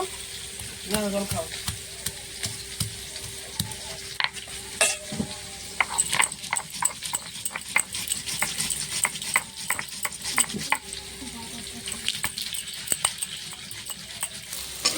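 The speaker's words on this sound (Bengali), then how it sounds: "আলুটা ভাজা হয়ে গেছে লাল লাল করে" Potatoes fry in hot oil with a steady sizzle while a utensil stirs and scrapes the pan in frequent sharp clicks, close and continuous.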